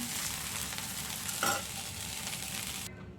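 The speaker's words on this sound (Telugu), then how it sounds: "ముందు మనం డ్రై ప్రాన్స్ వేసి వేపుకోవాలి" Dry prawns fry and get stirred in a pan, a steady close sizzle with one louder scrape of stirring partway through.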